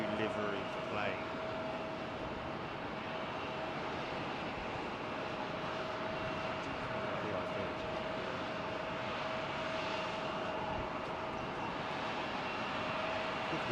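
Boeing 737 airliner at George Bush Intercontinental Airport in Houston, a steady distant jet engine roar filling the whole stretch with a constant whine, while a person talks nearby.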